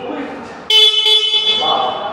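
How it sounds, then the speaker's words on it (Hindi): The single horn of a 2023 Hero Super Splendor Xtec motorcycle gives one loud, sustained, close honk of about a second and a half, following someone talking. "चलिए मैं आपको एक बार हॉर्न का साउंड सुना देता हूँ,"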